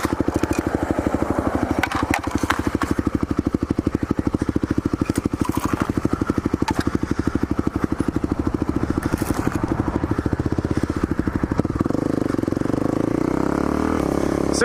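A dual sport motorcycle rides a trail with ruts and roots, its single engine chugging in a rapid steady pulse up close with clattering bumps, then settling into a smoother drone near the end.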